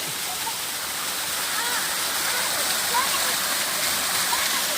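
A waterfall near a Shiva temple in Tirupati roars with a dense, constant rush of falling water, loud and unbroken throughout.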